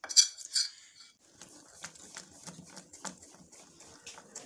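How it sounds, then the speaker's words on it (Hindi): A spoon beats chocolate cake batter in a bowl for a stovetop cake, giving a quick run of soft, rhythmic clinks and scrapes at close range after a couple of brighter taps. "इसको हमने ऐसे ही बीट करना है कुछ सेकंड्स के लिए मज़ीद"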